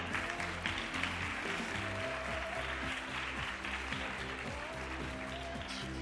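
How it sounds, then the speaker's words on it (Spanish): Audience applause at a vegetarian cooking demonstration, steady clapping from a small crowd that runs throughout over a background of music. "Venga, un aplauso."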